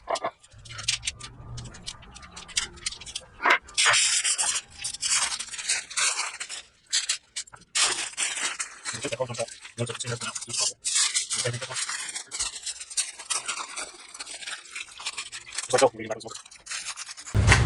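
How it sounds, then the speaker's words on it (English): A rack of smoked baby back ribs is wrapped, with irregular crinkling, rustling and tearing of wrap in bursts, interrupted by short pauses and brief speech. "I'm going to get this other rack wrapped up"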